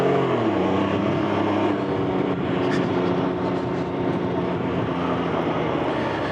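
A Can-Am Ryker three-wheeler pulling away in standard mode, a steady loud engine drone and road rumble whose pitch climbs at the start, with wind noise throughout.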